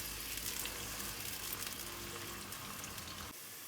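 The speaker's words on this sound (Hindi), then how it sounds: "मैं सबसे पहले इसमें प्याज डाल के इसको फ्राई करूँगी लाइट ब्राउन" Onions fry in a pan for Karachi-style beef nihari with a soft, even sizzle throughout. It is fairly faint and drops quieter just before the end.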